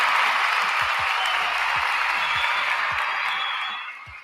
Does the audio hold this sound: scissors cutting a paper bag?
no